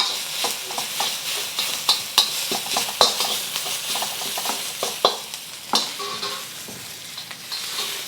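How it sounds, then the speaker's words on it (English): Ginger and garlic sizzle and crackle in a hot pan for mapo tofu, with a steady frying hiss broken by sharp scraping stirs and clinks of the spatula, close and fairly loud. "I'm going to add my ginger and garlic. And this one you'll just cook for about 30 seconds."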